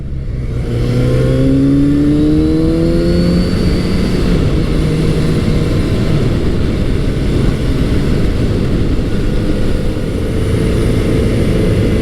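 A Kawasaki Z900RS motorcycle is ridden along tight back roads in Pennsylvania. Its engine note rises through the gears early on, then settles into a loud, steady roar with heavy wind rush.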